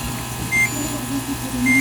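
An automatic washing machine gives two short electronic beeps calling for fabric softener, faint over a low steady hum.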